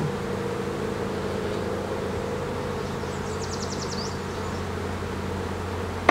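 A steady, low drone of honeybees hums continuously around the hive frames, with a brief higher buzz passing midway and a sharp tap at the end.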